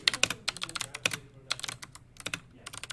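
Rapid, irregular clicks of fingers typing on a computer keyboard, close and clear in quick bursts with brief gaps, no talking.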